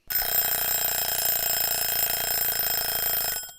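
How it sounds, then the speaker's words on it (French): A timer rings continuously, a loud metallic bell trill that starts abruptly, holds steady for a few seconds, then cuts off. "avant que ne parvienne aux oreilles de Marc la sonnerie du minuteur"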